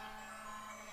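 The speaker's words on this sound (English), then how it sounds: "Sorry about that, my alarm just," A phone alarm beeping indoors, a steady electronic tone pulsing faintly and continuously for about a second, with no voices over it.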